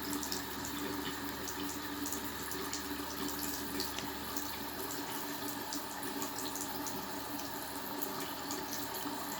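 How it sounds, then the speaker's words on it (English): Hands being rinsed under a running tap at a sink, a steady continuous splash of water with no talk, even and close throughout. "when you rinse your hands, you'll want to rinse them in a downward motion"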